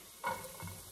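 Chopped garlic and chili hit a hot pan for Mexican-style calabacitas, giving a short burst of frying and stirring with a brief scrape.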